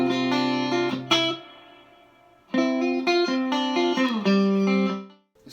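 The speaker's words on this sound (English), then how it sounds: "This is reverb at noon." Distorted electric guitar chords and riffs through a Vox AC15 amp with reverb at noon, a moderate reverb tail, the sound fading gradually during a pause before playing resumes.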